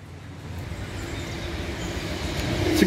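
A train passing Millhouses Park on a February day: a broad rolling rumble that swells steadily louder as it nears, with a brief high wheel squeal just before the end and no voices.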